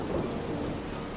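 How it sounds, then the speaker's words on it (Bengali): Steady, dense rain pours throughout a Bengali horror cartoon scene, with a low rumble of thunder rolling beneath the hiss. No one speaks. "এত গরমের পর প্রাণ জোড়ানো বৃষ্টি নেমেছে বাইরে"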